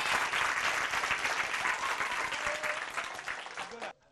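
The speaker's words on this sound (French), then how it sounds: "On applaudit encore les enfants pour vous." A studio audience on a children's TV show gives the young performers a lively round of applause, dense and sustained before cutting off abruptly.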